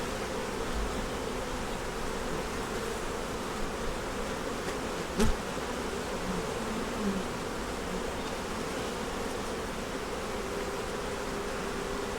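Dense, steady buzzing of many honey bees in a hive, close and continuous, with a brief knock partway through.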